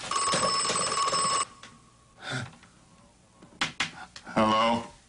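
An old-style telephone bell rings loudly and steadily for about a second and a half, then stops, followed by scattered household clatter and a person speaking briefly near the end.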